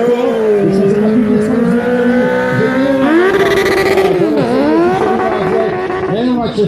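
A stunt drift special motorcycle engine revs hard at a Czech tuning and stunt moto show in Vyškov, loud and near, its pitch rising and falling in repeated sweeps with tire squeal, while an announcer talks over it.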